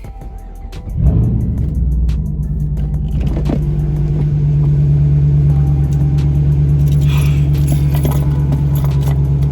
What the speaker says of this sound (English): let's start her up and go for a drive